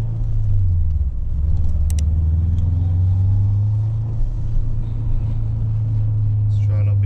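A heavily modified 2006 Subaru Forester XT with about 300 horsepower drives along, its engine droning in a steady, loud low rumble heard from inside the cabin, with a faint jangle of keys.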